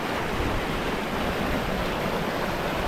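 A river swollen and churned up after a cyclone, flowing hard with debris and pumice along its banks, makes a steady, dense, broadband rushing roar that holds without a break throughout, close and loud, with no voices heard.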